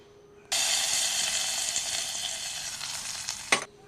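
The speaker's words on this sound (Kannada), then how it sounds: "ಒಗ್ಗರಣೆ ಚೆನ್ನಾಗಿ ಫ್ರೈ ಆಗಲಿ" Mustard seeds and cumin dropped into hot oil for a tempering burst into a loud, sudden sizzle that fades gradually over about three seconds before a final clatter, with no talking.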